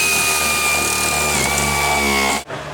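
A loud power tool runs steadily, whining at a constant pitch while tightening strut nuts on a car during strut replacement, then cuts off abruptly near the end.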